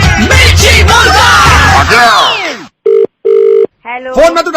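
A telephone rings in short electronic bursts with gaps, following loud, excited talk over a radio comedy segment.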